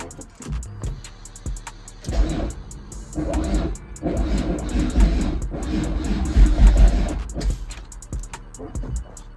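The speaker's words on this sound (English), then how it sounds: "Listen to how the car starts." A car engine cranks with a delayed start, the starter churning in a loud, low, uneven rumble from about two seconds in and continuing to the end without catching cleanly.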